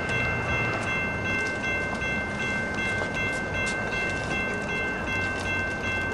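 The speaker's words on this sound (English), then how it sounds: "Now there's actually a train coming" A train passes at a level crossing in Encinitas on a Friday evening, a steady loud rumble of rolling cars with a high ringing tone held throughout and faint whistle-like peaks above.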